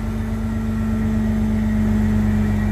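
A truck engine with its PTO engaged for an end dump trailer runs at a steady, droning hum, close and constant, with no pauses and no voices.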